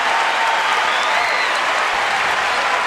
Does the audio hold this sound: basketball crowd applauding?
yes